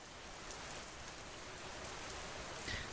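Steady rain patters and drips across a surface in a continuous, even wash, with no voices.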